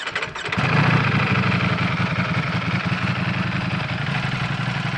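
Ducati Panigale V4 motorcycle on its stock exhaust starting from cold, a brief crank then the engine catching and settling into a loud, steady, rumbling idle heard up close.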